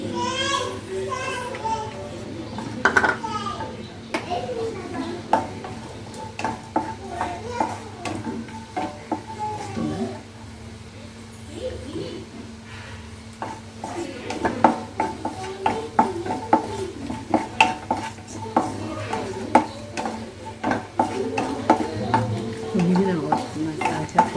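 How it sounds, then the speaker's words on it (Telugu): Almonds and cashews fry in hot ghee in a pan, sizzling steadily while a spoon stirs and scrapes with frequent clinks, as people talk and children's voices are heard in the background. "నెయ్యి వేడైన తర్వాత బాదం పప్పు జీడిపప్పు ఇలా వేసుకొని ఫ్రై చేసుకోవాలి"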